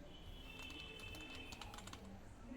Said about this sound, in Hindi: उसके बाद आप जब टाइप इन स्टार्ट कर दोगे